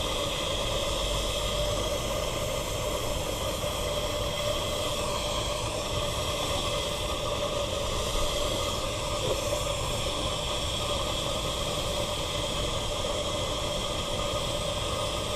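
Safety valve lifting on a steam traction engine, a continuous broad rush of escaping steam, steady and unbroken for the whole stretch.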